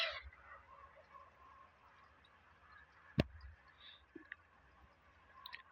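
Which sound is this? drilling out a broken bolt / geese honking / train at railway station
geese honking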